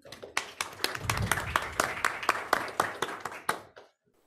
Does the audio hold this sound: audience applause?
yes